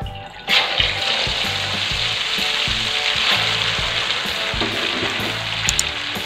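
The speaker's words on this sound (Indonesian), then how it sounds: "Lalu aku mau tuangkan lagi telurnya" Beaten egg poured into a hot pan for street-style rolled eggs on skewers, a loud continuous sizzle and crackle of frying with faint scraping and stirring, no voices.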